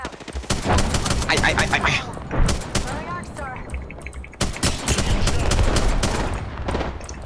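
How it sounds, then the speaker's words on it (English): Gunfire in Apex Legends: rapid bursts of automatic shots, loud and close, separated by brief pauses, with a voice speaking briefly under the fire. "They're shots!"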